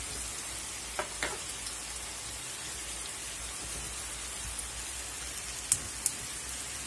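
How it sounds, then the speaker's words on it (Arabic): Lit charcoal crackling faintly beside liver and potatoes, a low steady hiss with a few sparse, sharp pops scattered through it, quiet and without speech. "ولعت على الفحميه اهو،"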